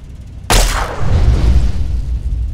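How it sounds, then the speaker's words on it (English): A laser pistol fires once in Fallout 3, a sharp loud burst followed by a rumbling, booming decay that lingers for over a second. "I guess I could still shoot my laser pistol and see"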